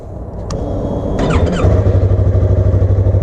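A Harley-Davidson motorcycle engine close by, rumbling and revving up, then settling into a loud, rhythmic low throb as the ride gets underway.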